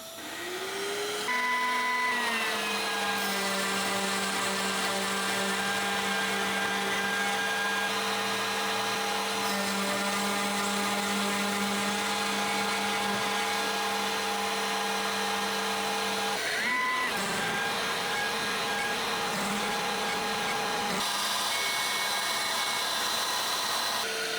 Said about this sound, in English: Turn on the vacuum and let her rip.